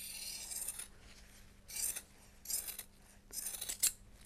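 Scissors cut glass fibre cloth for a GRP boat hull repair, giving five crisp, close snipping and rasping strokes in an uneven rhythm over a faint low hum.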